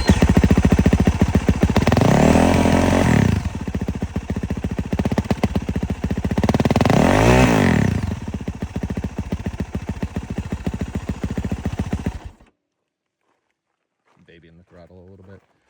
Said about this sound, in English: I'd do a little sound comparison between this YZ450 right here